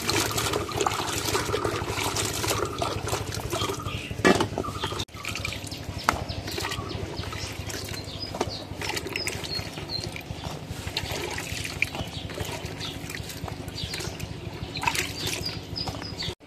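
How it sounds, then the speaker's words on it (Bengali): Vegetables such as eggplant and potatoes being washed in water, with continuous splashing, sloshing and trickling close by and a few sharper splashes and knocks along the way. "এখন তরকারিগুলো ধোয়া হয়ে গেছে"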